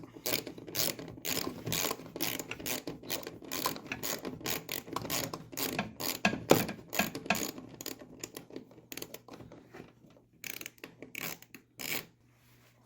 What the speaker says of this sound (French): on prend notre ratchet et on dévisse